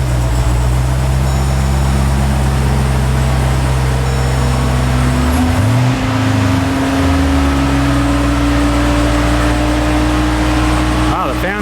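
A 2021 Dodge Durango SRT Hellcat's supercharged engine runs loud and steady while in park, with a low drone that dips and wavers around the middle of the clip in an uneven stumble before settling back; a voice talks over it.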